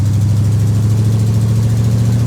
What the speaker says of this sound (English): That exhaust leak is driving me crazy.